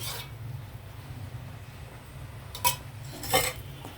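A sweet mixture cooking with ghee in a pan is stirred with a ladle over a low hum, and two sharp metallic clinks of the ladle against the pan ring out near the end. No speech.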